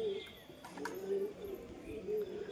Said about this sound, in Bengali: কবুতরটা এখনই জোড়া খেয়ে নিচ্ছে